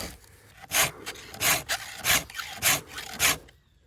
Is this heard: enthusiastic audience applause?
no